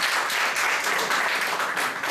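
Dense applause from an audience at a talk or event, a steady broadband wash of many hands clapping at once, loud and unbroken throughout.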